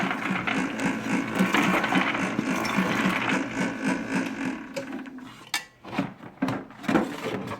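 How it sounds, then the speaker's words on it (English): A small pea sheller machine whirs and rattles steadily as it shells peas, a close mechanical churning that gives way to sharp clacks and knocks toward the end. "the hulls come out the backside, collecting the bottom, and the peas will fall into the hopper"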